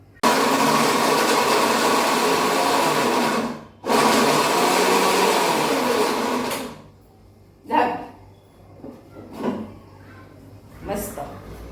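A mixer grinder whirs loudly while grinding chutney made with a chili-powder tempering, running in two long continuous bursts separated by a brief pause, then falling silent as a person talks.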